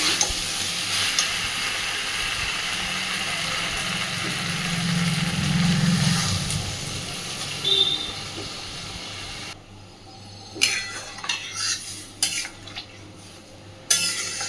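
Oil sizzles steadily in a pan while a utensil stirs and scrapes, with a few clinks and brief louder scrapes toward the end.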